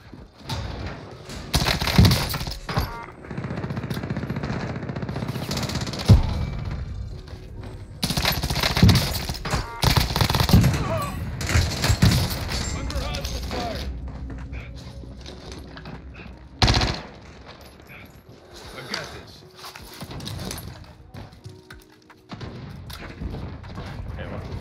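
Bursts of rapid automatic gunfire rattle through a Call of Duty Cold War Warzone match. Several loud volleys are separated by shorter shots and gaps, with players talking over the action.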